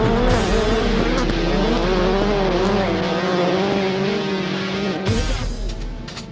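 Subaru race cars run laps on a circuit, their engines producing a loud, continuous roar that rises and falls in pitch as they shift and corner, with a brief dip and fresh surge near the end.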